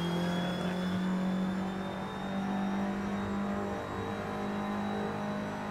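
An Audi TT Cup race car engine at Road Atlanta in a sim racing game hums at a sustained, fairly loud pitch with slight rises and dips in revs, heard alone without talk.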